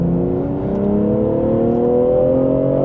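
A Stage 1 tuned BMW M340i engine revving up hard on a motorway, its droning pitch climbing steadily as it gains speed, loud and close.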